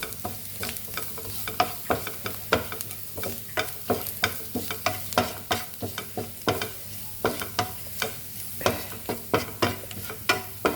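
Green beans fry in a pan as chili powder goes in, a steady sizzle under repeated sharp scrapes and clacks of a spoon stirring at a fairly even rhythm.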